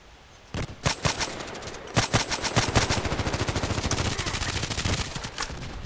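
Rapid automatic gunfire from the online shooter Contract Wars, a few single shots followed by a long sustained burst of close, loud, evenly spaced reports with no talking.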